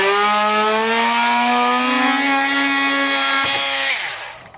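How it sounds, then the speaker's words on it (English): A power drill with an 11/32 bit bores straight through metal to enlarge a hole for a Schrader valve while fitting air helper springs on a 2020 vehicle, a loud steady whine with a slight rise in pitch that winds down abruptly at the end. "I'm just gonna use an 11/32, and that way we can get our Schrader valves passed through. So we'll just drill straight through."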